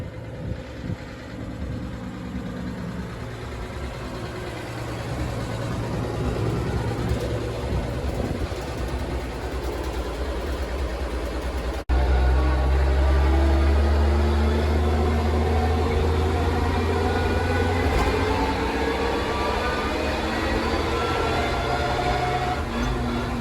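Truck engine running steadily while being parked, a continuous low rumble that grows louder and heavier midway through, with no talk.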